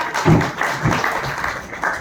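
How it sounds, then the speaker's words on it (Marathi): Loud crowd applause swells at a film trailer launch event for PSI Arjun, a dense wash of clapping that peaks early and keeps going steadily with a few faint voices mixed in. "एकदा टाळ्या होत्या जोरदार"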